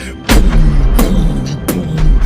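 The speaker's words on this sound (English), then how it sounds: "The sound of firing arcane cannons." Arcane cannons firing on an airship in a tabletop game sound effect: three loud, heavy booms in quick succession, each a sharp blast with a deep rumbling tail, close and powerful.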